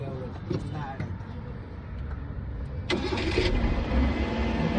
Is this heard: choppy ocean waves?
no